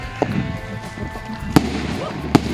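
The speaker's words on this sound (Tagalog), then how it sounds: "Ayan na, nagpaputok na sila." Fireworks go off at a Japanese festival, with two sharp distant bangs over a busy crowd murmur.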